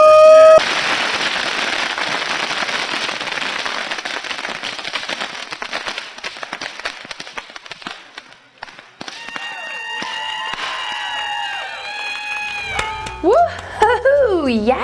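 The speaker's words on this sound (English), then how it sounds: "it looks like he's really just lighting normal fireworks" Ordinary fireworks lit on a chain-link fence launch pad crackle and pop in a dense, loud burst of rapid firecracker bangs, then whistling, sweeping tones rise and fall, with excited voices cheering near the end.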